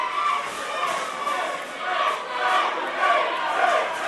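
Capacity wrestling crowd at the 2016 Young Lions Cup cheering for Drew Diz and Dickey Meyer, a loud sustained roar of many voices that swells and surges in rhythmic waves of chanting.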